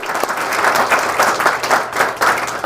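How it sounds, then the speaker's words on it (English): A crowd bursts into brief applause for a school principal, close and fairly loud clapping in quick uneven pulses that rises and dips over a few seconds. "Let's give her a round of applause."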